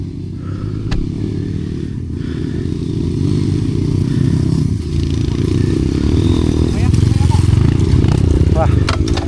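A Yamaha DT125 dirt bike engine drones steadily nearby on a trail with some rising revs, while people talk over it and occasional clatter breaks through.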